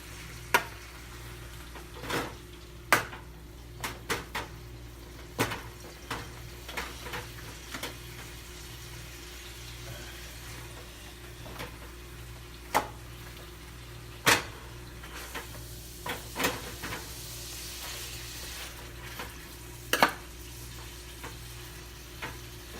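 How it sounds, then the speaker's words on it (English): Beef for burritos cooking slowly in a pan, a low continuous sizzle heard up close, punctuated by sharp scraping and tapping of a utensil stirring the meat at irregular intervals. "You're not gonna cook it too fast because you gotta make sure all the meat gets cooked all the way evenly."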